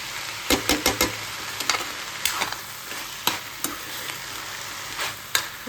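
Rice mixture tinted with food colouring being stirred in a pan for Maharashtrian narali bhaat, with a steady run of sharp scrapes and clinks against the metal and a faint sizzle underneath, close and fairly quiet.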